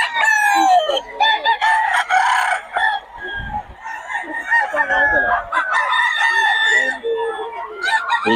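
Fighting cocks and chickens at a gamefowl gathering, with roosters crowing repeatedly and hens clucking close by, loud and overlapping throughout.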